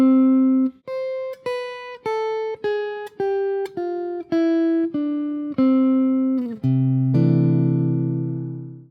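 Bebop scale with a chromatic passing note between the fifth and sixth, played as a clean synthetic tone: a steady descending run of about ten distinct notes, each separated by brief gaps, ending on a long sustained low note that slowly fades.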